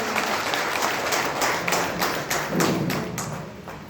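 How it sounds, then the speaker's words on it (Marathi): Loud, sustained applause from an audience at an award ceremony, dense clapping with a few sharper taps running steadily throughout. "सन्माननीय व्यक्तीवरती आपण जोरदार टाळ्यांचा पाऊस पाडूया."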